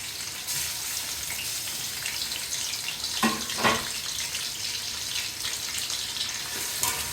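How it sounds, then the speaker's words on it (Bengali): Onion, green chili, ginger and garlic paste, cloves, cardamom, cinnamon and bay leaf frying in a pan: a steady, close, hissing sizzle with a couple of louder bursts as the ingredients hit the oil, and no voices. "এবার দিয়ে দিব পেঁয়াজ, কাঁচামরিচ, আদা বাটা, রসুন বাটা, লং, এলাচ, দারুচিনি, তেজপাতা সব একসাথে করা আছে।"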